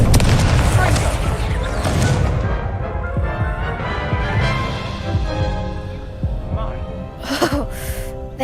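An Incendio fire spell cast during a duel in Hogwarts Legacy, a loud booming, throbbing burst with a dense low rumble that swells and lingers under game music and chatter, followed by a few brighter crackling hits near the end.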